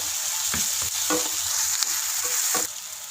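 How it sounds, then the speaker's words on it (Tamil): Onion and garlic sauté in a pan while being cooked for a Kerala-style fish curry, giving a steady close sizzle broken by a few sharp scraping stirs of a spatula. "வெங்காயமும் பூண்டும் நல்லா வதங்கட்டும்"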